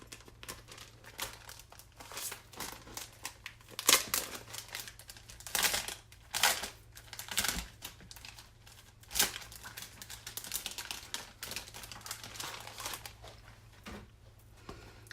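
Packaged iron-on transfers being pulled out, their plastic sleeves crinkling and rustling in irregular close bursts with sharper crackles, no talk.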